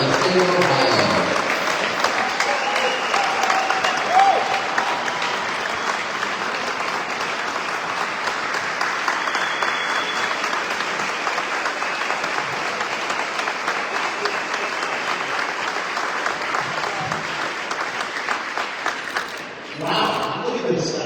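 A large crowd at a Pickaway County Lincoln Day Dinner applauds steadily and loudly to welcome the keynote speaker, a candidate for governor of Ohio, sustained clapping filling the room before tapering near the end.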